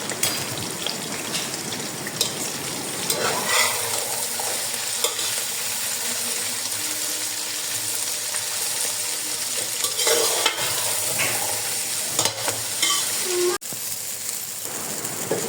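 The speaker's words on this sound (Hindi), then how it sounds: "दूसरी साइड पे पतीली में थोड़ा सा घी डाल के आपने भिंडियों को हल्का सा फ्राई कर लेना है" Okra fries in a little ghee in a cooking pot and is stirred steadily, with a continuous crackling sizzle and scraping stir sounds throughout.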